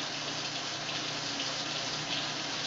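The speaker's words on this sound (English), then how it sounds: "If you hear the water behind you, it's because I'm actually getting my water warmed up." Tap water runs steadily in a home kitchen while it is being warmed up for baking, a continuous, even rush with no breaks and no talk.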